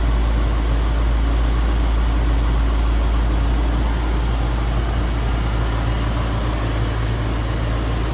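A 1965 Ford Thunderbird Special Landau Coupe idling smoothly, giving a loud, steady, low engine rumble close up with no talk over it.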